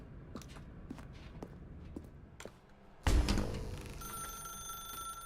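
Footsteps on a floor, then a telephone bell starts ringing loudly and keeps ringing, in the video game The Stanley Parable: Ultra Deluxe.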